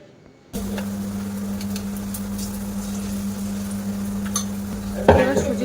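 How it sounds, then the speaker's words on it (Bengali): Semolina batter fritters frying in hot oil in a kadai: after a brief quiet start, a steady close sizzle with a low hum beneath, a few faint clinks and a louder bubbling burst near the end. "ওই ব্যাটারগুলো একটু চামচে করে করে দিয়ে দেব। দিয়ে বেশ বড়া আকারে ভাজা করে নেব।"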